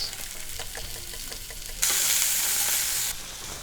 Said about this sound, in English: my pan's getting hot and we're gonna fry off the fish